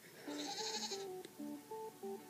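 Repeated bleats from a cartoonish goat in the mobile game Goat Frenzy, a Goat Simulator knockoff, several short calls in a row over a steady background of game sound.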